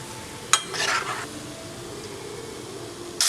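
Banana and wheat-flour bonda frying in hot oil, a steady bubbling sizzle with a sharp clink and a brief burst of louder spattering near the start, then an even hiss.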